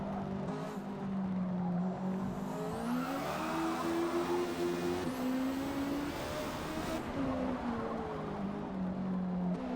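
Mazda MX5 cup car engine in Forza Motorsport at Brands Hatch, revving loud and near, pitch climbing through gears then dipping on lifts, a continuous racing drone with faint tire scrub.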